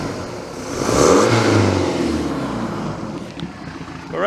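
A 1976 Mercruiser 120hp boat engine with an acceleration dead spot revs up loudly and close by, swells for about a second, then holds a rough, steady roar.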